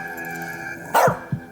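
A dog in the video game As Dusk Falls gives two sharp barks close up, the second shorter, over a low steady hum.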